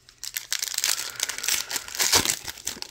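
Foil wrappers of sealed 2021 Optic football blaster trading card packs crinkle and tear open up close, with a steady run of bright crackling that swells near the end.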